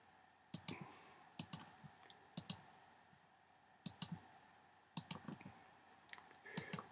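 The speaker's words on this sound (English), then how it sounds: "So we're going around clicking" Sharp mouse clicks, often in quick doubles, arrive in irregular bursts at close range against a quiet room, while layering and masking work goes on in image-editing software.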